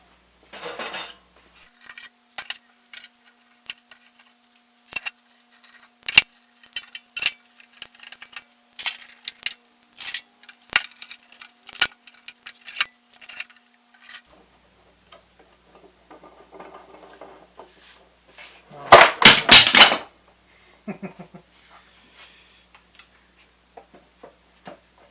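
Metal clamps being pulled off a freshly glued custom guitar body and dropped onto a hard surface, a long run of sharp clanks and ticks in uneven rhythm, ending in a loud rattling cluster, close and without talk.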